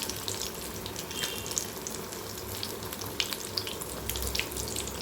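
Raw banana bajji fritters fry in a pan of hot oil, roadside-stall style, with a continuous close bubbling sizzle and crackle and no voices.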